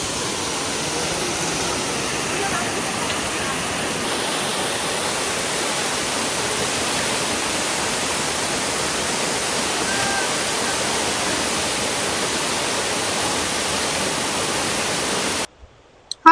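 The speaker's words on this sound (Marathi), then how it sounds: "धबधबा मला सगळ्यात जास्त आवडलेला आहे कारण तो जवळून बघता आलेला आहे" A close waterfall at Thoseghar near Satara roars as a steady, loud broadband rush of falling water that continues almost without change before cutting off abruptly near the end.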